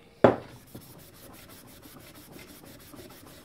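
A Scotch-Brite pad rubs thin clear coat off a Honda XL250 motorcycle part during a restoration: one sharp knock, then a soft, steady scrubbing rasp close by.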